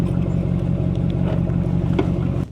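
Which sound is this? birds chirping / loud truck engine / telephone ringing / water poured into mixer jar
loud truck engine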